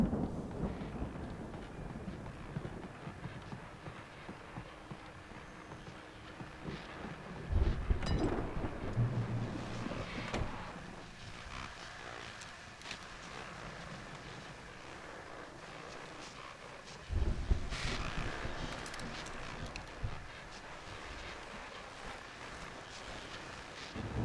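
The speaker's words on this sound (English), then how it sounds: "that storm we all felt coming is finally here" Thunder rolls through a stormy night in the video game Alan Wake, with two heavier booming cracks rising out of a steady bed of wind and rain-like rush. No one speaks.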